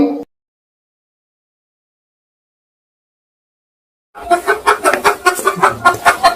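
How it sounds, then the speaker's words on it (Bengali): A cartoon hen clucks in a quick, loud run of repeated clucks close by, coming in after a long stretch of silence that follows a brief opening sound. "এই তো একটা মুরগি কক্কা করছে"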